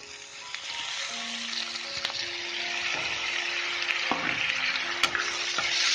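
Tomatoes tipped into a pan of sautéing onions sizzle with a steady, bright frying hiss, stirred with scraping clicks, close and continuous.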